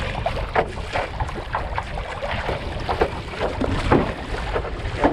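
Waves slap and splash against the hull of a stand-up paddleboard racing in Deep Cove, with choppy, uneven washes and wind rushing across the microphone.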